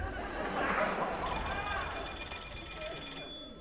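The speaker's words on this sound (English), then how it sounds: "Yeah, it's the phone, okay?" A telephone rings during a live stage play, an electronic trilling ring entering partway through and continuing for a couple of seconds over a murmur of audience chatter and room noise.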